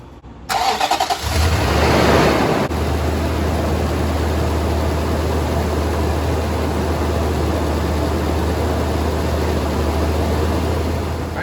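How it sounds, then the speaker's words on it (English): A Nissan Titan pickup's engine cranks briefly and catches, then settles into a steady, loud, low idle that drones on without a break, with no talking over it. "I'm gonna fire up the truck"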